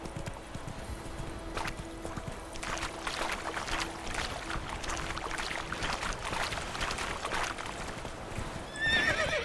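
Horse Roach in The Witcher 3, with steady clip-clop hoofbeats and a neigh near the end, alongside a soft ambient game background and a faint tone.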